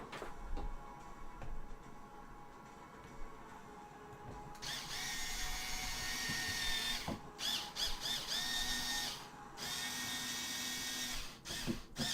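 A Ryobi power drill with a Phillips bit on an extension driving screws while a monitor is assembled, sustained close whirring runs broken by brief stops and ratcheting clicks, with no talking.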